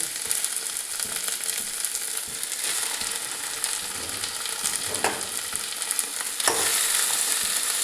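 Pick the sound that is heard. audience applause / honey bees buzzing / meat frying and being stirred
meat frying and being stirred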